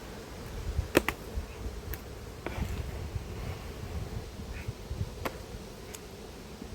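Honey bees buzz around a hive box while two colonies are being united in an apiary. A soft, continuous drone carries on under outdoor ambience, with a few sharp clicks and knocks.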